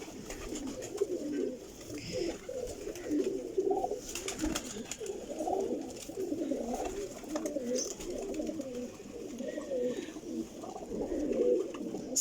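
Several pigeons coo together in a continuous, overlapping murmur of low throaty calls, fairly close and steady, with faint background noise and no speech.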